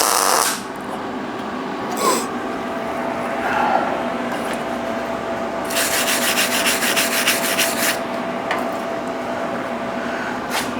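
MIG welding a steel V block into a corner joint, with a steady crackling, sizzling hiss running throughout and a harsher, louder burst in the middle, heard close and alone without talk.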